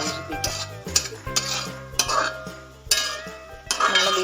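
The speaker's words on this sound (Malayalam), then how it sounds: "അപ്പം ഇത് നന്നായിട്ടൊന്ന് ഇളക്കി യോജിപ്പിക്കാം" A utensil scrapes and clinks against a pan while beetroot and chili powder are stirred together, making irregular close knocks and rasping strokes over a faint background hum, with no speech.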